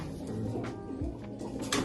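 A black pigeon with white-marked wings, a large Chinese breed, coos softly in brief low murmurs, close by, amid faint shuffling noises and no talk.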